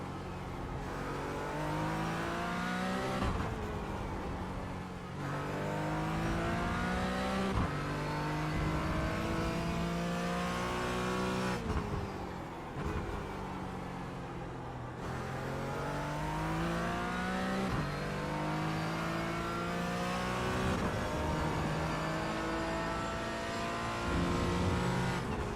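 A GT race car engine in the iRacing sim revs hard under throttle, climbing repeatedly in loud, rising sweeps broken by quick gear shifts. It stays steady and close throughout with no voices.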